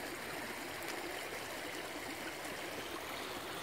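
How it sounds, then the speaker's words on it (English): Water flows through a small creek with a steady, soft rushing and trickling that stays even throughout and is fairly faint. "get this to be a full-time running creek again"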